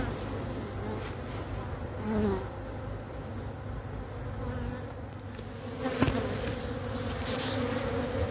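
Bees and hornets buzz around a beehive, a steady close swarm drone with occasional louder passes of individual insects, no voices.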